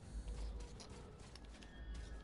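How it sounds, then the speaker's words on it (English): A door in Metro 2033 Redux creaks open with faint, drawn-out mechanical groans and small clicks over a low rumbling background, quiet and somewhat distant. "it was the door I saw swing in open"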